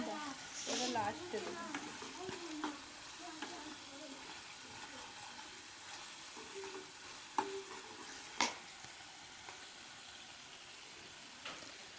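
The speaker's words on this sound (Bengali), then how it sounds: "মাঝে অনেকটা সময় নিয়ে আমি এটাকে নেড়ে চেড়ে রান্না করে নিচ্ছি" Peas and rohu fish curry stirred as it cooks in a pan, faint soft scraping and a low sizzle with a couple of sharper clinks of the utensil, a voice briefly audible near the start.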